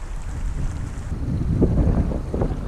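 Wind gusts across an open meadow beside the Bear River in northern Utah, battering the microphone with a steady low roar that swells into heavier buffeting gusts in the second half.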